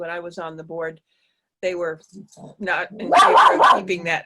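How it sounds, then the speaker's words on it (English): A pet dog barks and yips with short, excited bursts under and between a woman's speech, fairly close to the microphone, the barking strongest toward the end. "Sorry about my dog. I don't know if you can hear her."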